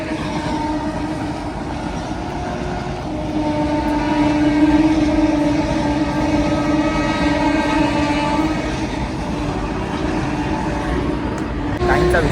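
A train passes steadily nearby, its continuous rumble and wheel noise carrying a sustained horn tone throughout, with faint background voices under the din.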